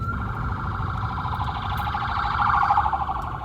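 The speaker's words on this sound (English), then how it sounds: "Way to ruin my video, ambulance." An ambulance siren wails steadily and loud, swelling slightly as the emergency vehicle passes close by, with traffic rumble underneath.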